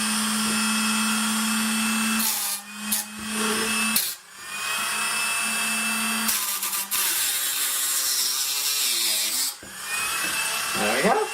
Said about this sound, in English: So I use a little Dremel just to make it equal.